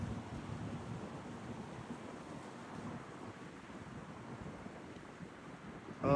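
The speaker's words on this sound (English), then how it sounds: "And it's so windy out right now." Strong wind roars steadily outdoors as a wildfire burns amid a windstorm, a constant low rushing buffeting the microphone with no voices, swelling slightly near the end.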